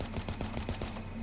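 Rapid gunfire from the Broken Lines video game fires in a quick run of sharp shots over a low, steady game background, then stops and leaves only the background.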